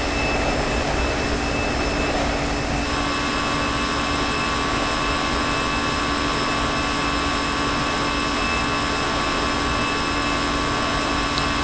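An Airbus A320 jet takes off in the X-Plane 11 flight simulator, producing a loud, constant engine roar with steady whining tones and a higher whine that joins partway through, and no voices.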